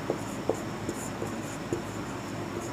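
Pen or pencil scratching on paper while working a Class 10 trigonometry exercise, a series of soft, irregular strokes and taps over a steady background hiss, fairly close.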